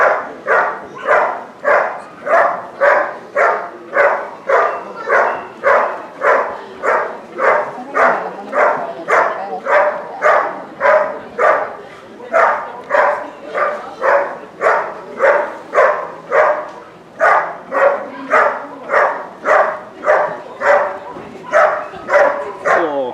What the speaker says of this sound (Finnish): Ja otti hyvä haukku.